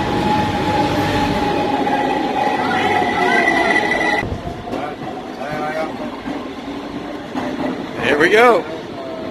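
A Cairo subway train rumbles loudly through a dark tunnel with a steady roar, a shift in tone midway and a brief wheel squeal near the end, while a person speaks briefly over it.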